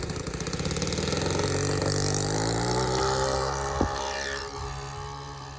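A model airplane engine on a Sig Four Star buzzes and sputters nearby, its pitch rising as it revs, with a sharp knock partway through.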